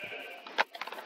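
Sheep bleating in Minecraft, a short wavering bleat followed by quick clicking bursts, fairly faint and gone within a second.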